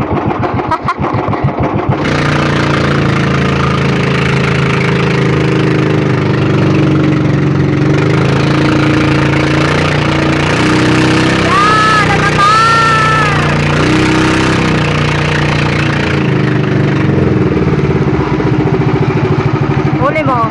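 Boat engines drone steadily throughout at close range, a deep mechanical rumble with a higher whine rising briefly, while voices talk over it.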